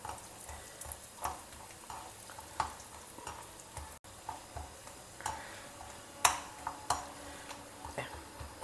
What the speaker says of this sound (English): Add this Kuzhambu Vadam to the hot oil and allow it to fry very well